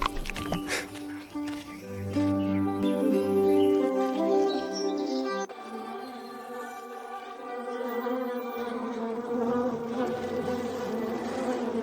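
Honeybees kept in a flower greenhouse buzz steadily and fairly loudly throughout, a continuous droning hum with shifting pitch as they fly close by.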